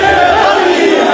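Dense, steady crowd noise of protesters chanting slogans against Pakistan's prime minister Shehbaz Sharif, a loud, continuous wall of many voices with no pauses.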